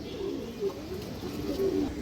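Musaldom pigeons coo softly in a loft, a few low murmuring calls rising and falling over a steady background hum.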